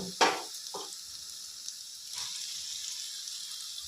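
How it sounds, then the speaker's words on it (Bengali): Chicken pieces dropped into a hot pan with cashew and melon seed paste for home-style chicken vorta, a sharp sizzling burst at first, then a brief clatter and a softer, steady sizzle. "এবার আমি চিকেনের পিসগুলো সব দিয়ে দেব।"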